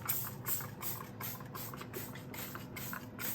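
Clorox cleaner sprayed onto a kitchen sink in a series of short hissing bursts, close and steady against a low background rumble.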